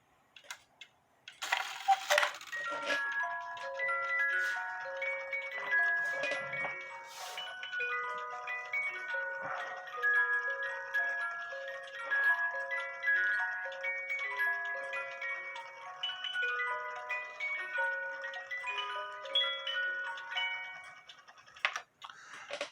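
Hubert Herr musical cuckoo clock playing its tune, a bright tinkling melody of plucked metallic notes repeating over about twenty seconds, with a few sharp clicks and mechanical knocks at the start and end, quiet and close.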